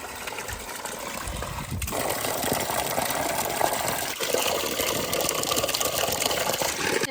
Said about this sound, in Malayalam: അപ്പോൾ നമുക്ക് ബക്കറ്റിൻ്റെ ഒരു 3/4 ഭാഗത്തോളം വെള്ളം പിടിക്കാം.